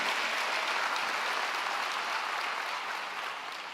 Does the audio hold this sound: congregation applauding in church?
yes